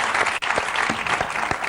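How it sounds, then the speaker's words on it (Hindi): An audience gives a studio guest a short burst of steady, dense applause at a comedy talk show interview, with a few louder individual claps standing out near the front. "अब्बास मस्तान जी के लिए जोरदार तालियां हो जाए एक बार"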